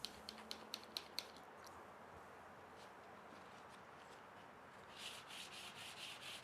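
Sandpaper of 1200 grit rubbing over the finish of a custom guitar body, a soft continuous hiss with a few sharp taps at the start and a louder stretch of strokes near the end.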